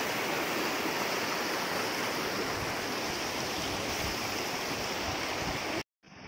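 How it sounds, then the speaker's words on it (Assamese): A river flows with a steady, loud, rushing murmur that fills the scene without a break, then cuts off abruptly near the end. "কুলু কুলে কুলু কুলু সুৰেৰে এয়া নদী বৈ যোৱা"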